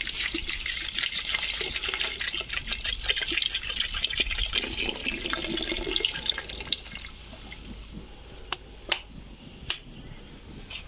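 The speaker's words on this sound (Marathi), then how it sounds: "बाटलीत पण पाणी आहे ते पण टाकून घेणार आहे मी बाटलीतलं पण टाकून घेऊ पाणी" Water poured from a bottle into mutton curry cooking over a wood-fired clay stove outdoors on a farm, a steady splashing trickle that thins out toward the end, broken by a few sharp drip-like clicks.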